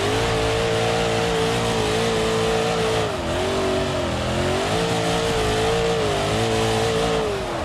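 Ravix car engine in a video game held on the rev limiter, a loud continuous high-pitched engine whine that bounces and wavers slightly as it hits the limiter, with no talk over it.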